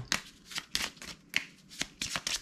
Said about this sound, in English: So here we go, we're going to shuffle.